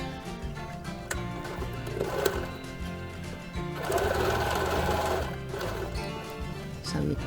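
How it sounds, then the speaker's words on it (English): Sewing machine stitching the sides of a simple fabric face mask, a steady rapid mechanical chatter running nearly the whole time and swelling louder in a sustained burst near the middle, with brief pauses and clicks between runs. "now we sew that for the both sides"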